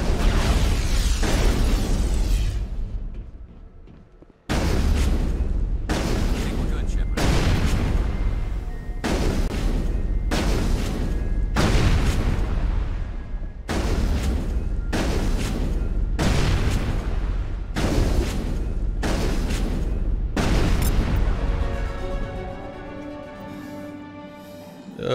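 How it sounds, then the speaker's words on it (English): Rocket explosions in Mass Effect, a rapid series of loud, close booming blasts, about a dozen in regular succession, each cutting off sharply after a short silence near the start, with no talk. "Rockets."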